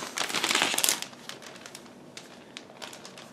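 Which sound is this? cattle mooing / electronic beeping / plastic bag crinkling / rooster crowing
plastic bag crinkling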